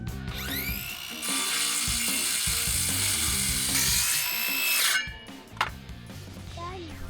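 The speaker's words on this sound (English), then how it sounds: "I'm gonna try to cut these posts off." A power saw cuts through wooden garden fence posts, a loud, steady high-pitched whine that holds for several seconds and then stops, followed by faint clatter and short squeaks.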